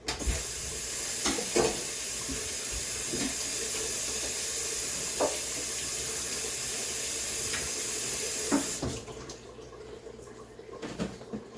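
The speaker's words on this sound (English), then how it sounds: "So wash the banana them and cut up the banana them in a skin" Running water pours over green bananas being washed under a tap, a steady close wash with a few knocks and splashes before the flow stops near the end.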